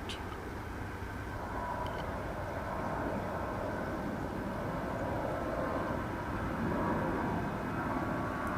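A Volaris airliner passing at DFW Airport: a steady, distant broadband jet roar that holds evenly throughout, with no talking.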